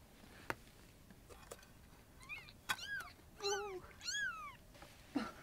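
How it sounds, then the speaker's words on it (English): A litter of six newborn kittens with eyes still closed gives a series of thin, rising-and-falling meows, near and clear, interspersed with soft clicks and rustles in a quiet room. "Six cats. Six cats."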